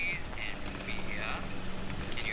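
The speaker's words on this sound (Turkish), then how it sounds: "Dışarıda yağmur yağıyor ya." Steady rain patters across a rainforest scene in a video game, a constant hiss with faint higher tones layered over it.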